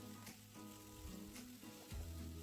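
Onion and capsicum for chilli chicken fry in a pan with a faint, steady sizzle and occasional soft crackles.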